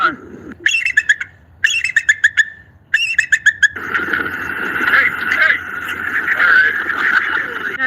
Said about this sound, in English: There's a bird in my car.